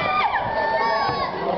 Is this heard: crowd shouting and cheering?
yes